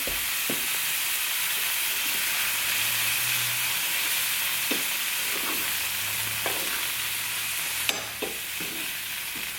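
Food seasoned with taco seasoning sizzles steadily and loudly in the pan used earlier for shrimp, a dense hiss with a few faint clinks and scrapes of stirring now and then.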